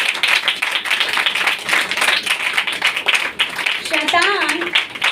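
Worship congregation clapping in steady rhythm throughout, loud and close, with a voice speaking and a brief shout over the applause.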